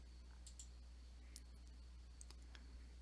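Sharp, faint computer mouse clicks, a few scattered single taps over a low steady hum during GIS map work.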